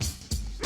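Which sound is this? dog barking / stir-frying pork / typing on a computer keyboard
dog barking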